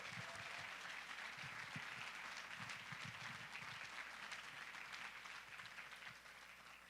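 Big audience applause for startup founders and their teams at an accelerator demo day, a dense, steady wash of clapping that carries loudly throughout and eases off slightly at the end.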